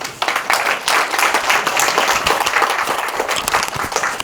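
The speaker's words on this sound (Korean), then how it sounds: "박사님을 큰 박수로 모시도록 하겠습니다." An audience at a neuroscience lecture on autism claps steadily to welcome a speaker to the stage, a full, even round of applause lasting throughout, fairly close and loud.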